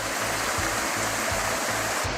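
A mountain stream tumbling into a waterfall in Graubünden, its broad constant roar of rushing water loud and close, with a faint low rhythmic thumping underneath and no voices.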